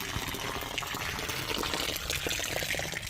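Water pours in a continuous splashing gush as an offering to the Sun god, loud and close, with a steady rushing flow and no speech.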